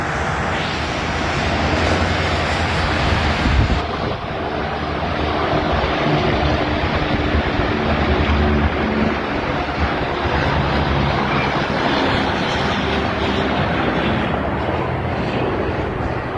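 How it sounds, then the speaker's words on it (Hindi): Helicopter flying overhead during a presidential motorcade in Karachi, heard as a steady, loud, broadband rotor and engine roar that continues for the whole stretch, with a slight change in tone partway through. "अच्छा ऊपर हेलीकॉप्टर भी है"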